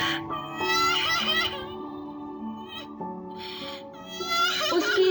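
A young girl in a Hindi children's fairy tale, left alone without her mother, cries loudly in wavering, high, sobbing wails that repeat in several bursts over a steady musical background.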